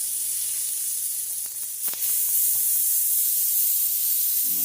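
Beyond Meat burger patties sizzle steadily in a pan after being flipped, a continuous close hiss with a few soft clicks and pops partway through, no talking.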